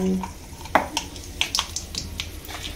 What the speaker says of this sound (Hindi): तेल गरम हो गए संगवारी हो। अब इन डालबो सरसों